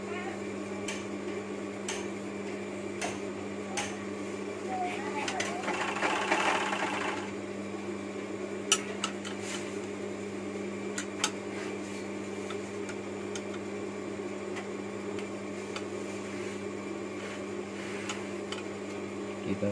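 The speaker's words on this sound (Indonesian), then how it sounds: "Lalu kita coba dulu kita jalankan jalan obraknya." An overlock sewing machine runs steadily while stitching hand trim, giving a continuous mechanical hum with a quick rattling burst and scattered ticks and clicks at close range.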